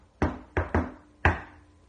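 Four sharp knocks, likely on wood, ring out during a private home paranormal investigation: two spaced raps, then a quick pair, each with a short room echo.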